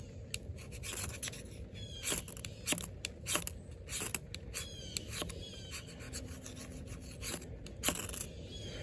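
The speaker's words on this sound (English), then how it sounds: "it's definitely sparking again with effort" A knife spine is scraped repeatedly against a ferro rod to throw sparks for starting a fire, giving a series of sharp, close rasping strokes in an irregular rhythm over faint outdoor background.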